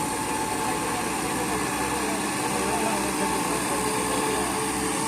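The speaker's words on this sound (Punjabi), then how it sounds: "ਇਹ ਟਰੈਕਟਰ ਜ਼ੋਰ ਲਾ ਰਿਹਾ" A tractor stuck in mud roars steadily under heavy load, its engine droning at a constant laboring pitch throughout, close and loud with a faint vibrating rumble beneath.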